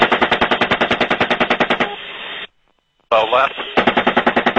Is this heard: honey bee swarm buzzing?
no